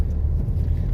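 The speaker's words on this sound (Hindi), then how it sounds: "ये देखिए ट्रैक्टर वाला लग जा रहा है" A tractor drives past on a town street, a steady low engine rumble close by with no voices.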